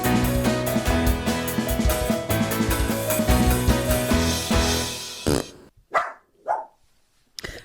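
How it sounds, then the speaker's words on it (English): Music plays for several seconds and then cuts out. A dog then barks a few times in separate, close, loud bursts with nothing else heard. "Let's start as we mean to go on with the dog bark."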